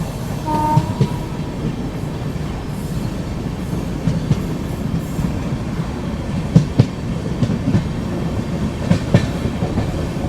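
The Patna Udaipur Humsafar Express rumbles along steadily from onboard, with a continuous rolling roar broken by sharp rhythmic clicks and clacks of the wheels over rail joints.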